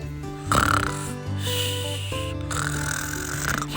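A voice imitates a small bear fast asleep during a bedtime story read-aloud, producing loud, growly, snuffly snores in several long, close breaths.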